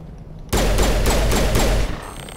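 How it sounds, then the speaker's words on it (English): A sudden burst of rapid automatic gunfire from the video game Mass Effect lasts under two seconds, loud and close, with distinct repeated shots, then cuts off to a quieter background. "They're shooting."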